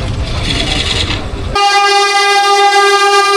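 The Paharia Express from Digha to NJP runs through a station at Mecheda with a loud rumble of wagons, then a long, sharp, sustained horn blast takes over.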